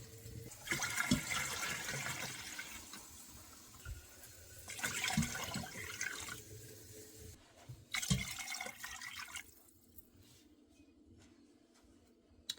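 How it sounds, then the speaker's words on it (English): Water runs and splashes in bursts, filling a pressure cooker with a steady rushing pour that stops and restarts several times before fading to quiet. "I'm just going to fill it up with water."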